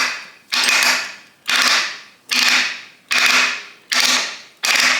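A Harley-Davidson four-speed rotary top gearbox from 1979-1984, freshly rebuilt, being turned through its gears by hand: six crisp mechanical clunks at a steady rhythm about every 0.8 seconds, close up and loud, with no talking.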